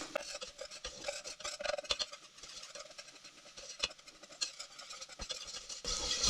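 Flour for a Thanksgiving leftovers pie filling is whisked in a pan as it toasts, giving a steady, fairly quiet rasping and scraping that runs on continuously with small clicks of the whisk.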